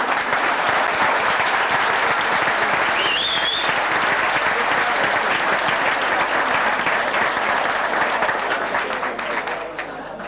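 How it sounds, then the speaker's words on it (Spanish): Loud, sustained crowd applause at a Real Madrid supporters' club inauguration dinner in Santa Margalida, Mallorca, dense clapping lasting about ten seconds with a brief whistle and fading slightly at the end. "para todos ellos pido un fuerte aplauso también"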